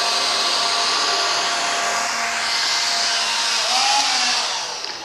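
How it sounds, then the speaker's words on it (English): A competitor cordless vacuum cleaner makes one pass over flour spread on a black acrylic surface, giving a steady, loud, airy motor whine with a slight rise and fall in pitch near the end. "we're actually going to start with a competitor vacuum"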